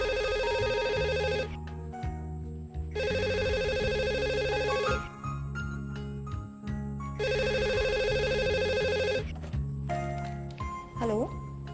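A telephone rings in long repeated bursts with short silent gaps between them, loud and close over a steady low background tone.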